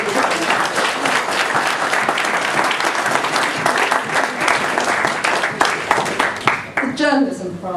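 An audience at the Orwell Prize 2011 longlist announcement claps for the longlisted authors, loud continuous applause filling the clip, with a voice starting to speak at the very end.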